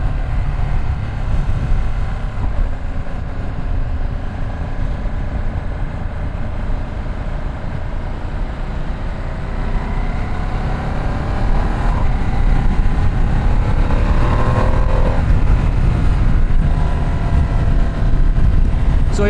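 Ducati Streetfighter V2 S motorcycle ridden on the road, a steady loud engine drone with rushing wind throughout and a brief rise in pitch near the end, no talk.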